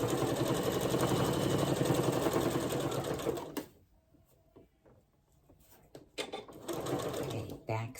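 A sewing machine stitches a potholder in a loud, rapid burst, pauses with soft handling clicks, then runs again briefly at close range.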